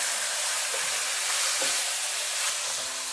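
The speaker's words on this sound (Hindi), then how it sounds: "साथ ही इसमें डाल देंगे चिकन, अच्छी तरह से फ्राई करेंगे चिकन को" Chicken pieces sizzle steadily in a pan over a medium flame, a loud, even hiss of frying with faint stirring clicks and no talking.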